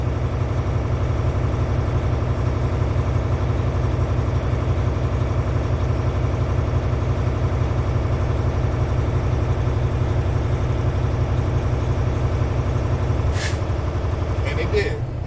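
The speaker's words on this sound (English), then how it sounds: "At 120 psi, my air compressor governor cut off." A truck's air compressor governor cuts off at 120 psi: a diesel engine idles steadily throughout, then a brief sharp hiss of air bursts out near the end, followed by a few smaller puffs.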